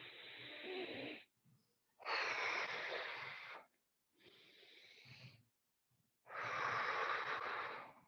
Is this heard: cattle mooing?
no